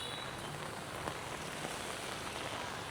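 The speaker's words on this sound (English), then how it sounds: "now it's raining a little bit stronger" Steady light-to-moderate rain falling on surfaces on a rainy day in Da Nang, an even hiss with faint scattered drops, no voices.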